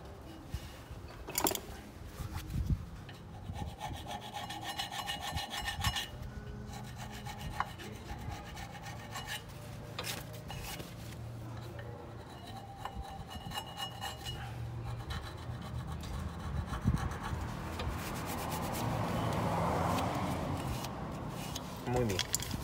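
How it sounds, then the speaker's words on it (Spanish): Scraping and rubbing sounds come from cleaning the brake caliper surfaces where the pads sit, a steady close abrasive scrubbing with brief clinks. Someone talks over part of it. "Ahora vamos a limpiar estas partes de acá donde trabaja la balata."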